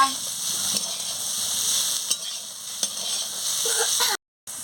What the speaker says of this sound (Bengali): দিয়ে আমি একটু ভালো করে আমি ভেজে নিচ্ছি